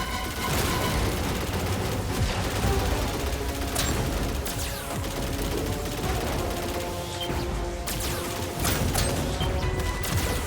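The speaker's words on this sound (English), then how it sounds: "Shoot those asteroids." Ship blasters fire nonstop at asteroids in the Star Fox video game, a dense, loud barrage of rapid shots and crashing explosions running throughout.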